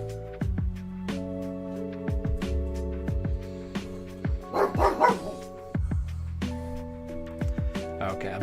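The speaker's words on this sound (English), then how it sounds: "He can hear another dog barking." A dog barks indoors in sharp, repeated bursts, some close together and some spaced apart, over a steady tonal background.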